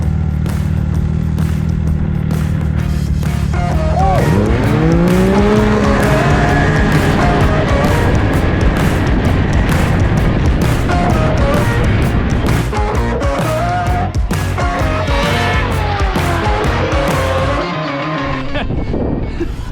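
Snowmobiles race across slushy early-season snow, engines roaring loud and close with rising and falling revs as the throttle opens and eases, plus rushing wind and clatter throughout.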